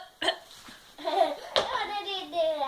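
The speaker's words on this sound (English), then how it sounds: "Mom, did you hiccup now?" A child's sudden hiccup followed by more short, sharp vocal bursts mixed with laughter and excited voices, close up in a lively home setting.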